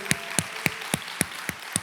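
A church congregation at a Korean Sunday worship service claps in unison: seven sharp, evenly spaced claps at a brisk steady beat, fairly close and distinct against a quiet background.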